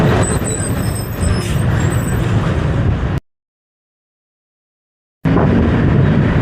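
Road traffic with buses and trucks on the C5 extension, a loud, close rush of engines and tyres with a high air-brake hiss early on, then a sudden two-second dropout of total silence before the traffic noise returns.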